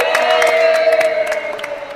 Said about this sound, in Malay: Beri tepuk tangan untuk Jak.